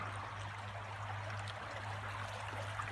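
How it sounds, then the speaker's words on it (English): Creek water trickling steadily at a campground near the Smoky Mountains, a shallow wading creek; a soft, continuous, fairly faint wash of running water with no voices and a low steady hum beneath. "a nice cool place to sit and listen to the water trickle"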